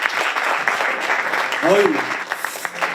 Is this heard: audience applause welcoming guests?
yes